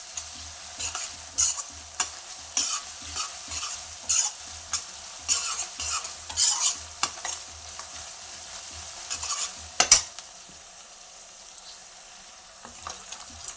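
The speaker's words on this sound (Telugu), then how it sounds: "ఇది ఇట్లా మంచిగా వేగింది కదండి పోపు." A garlic, cumin and green chilli paste tempering fries in a pan for tomato curry, sizzling close by while a spoon scrapes and stirs in repeated strokes, quieter near the end.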